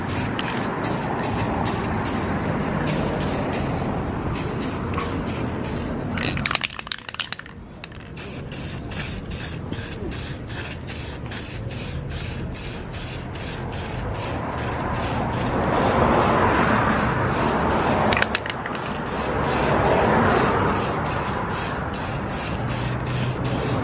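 Spray gun hissing steadily as a third coat of paint goes onto Integra Type-R side skirts, a close continuous spray with brief pauses and a few sputtering breaks.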